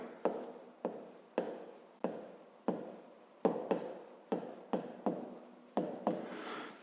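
Handwriting a multiplication check for a 5th-grade division exercise in a notebook: a quiet, close pen or pencil scratching in short bursts, roughly a dozen strokes with brief pauses between them, no talk.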